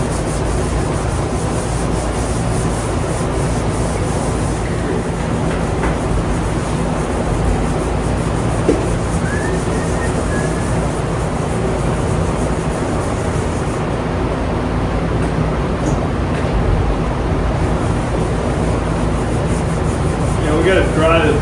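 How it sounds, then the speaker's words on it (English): Continuous rough rubbing of sanding on a motorcycle part's gel coat, steady and close, with a constant mechanical hum underneath. "we sand until that gel coat is flat"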